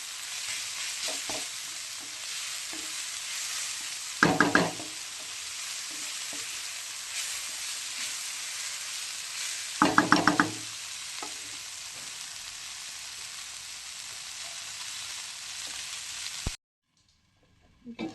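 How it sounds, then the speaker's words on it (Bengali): Leafy greens with turmeric and salt fry in a pan with a constant close sizzle, broken by two short bursts of louder stirring before the hiss abruptly cuts off. "ভাজা হচ্ছে।"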